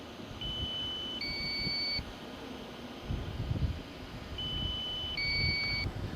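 A DJI Matrice 300 drone's low-battery alarm sounds during flight: two separate bursts of stepped, high two-tone electronic beeps, clear above a steady background hiss.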